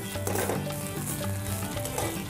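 Food sautéing in a pan while being stirred continuously, a steady close sizzle with soft scraping and stirring motions and faint tonal hum underneath, no talk.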